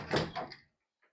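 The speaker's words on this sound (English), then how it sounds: "door knocking, doorbell sounds" A door sounds at close range inside a home, two quick knocking or rattling impacts within about half a second, then silence, used as a training cue for a dog.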